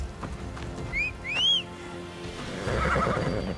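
A horse in the video game Assassin's Creed whinnies twice in quick succession, loud and close, followed by a burst of hoofbeats and rustling over a steady game background.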